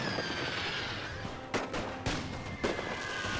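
Gunfire in a World War I video game: a continuous background din of distant battle with three sharper rifle or cannon cracks standing out, fairly quiet overall and without speech.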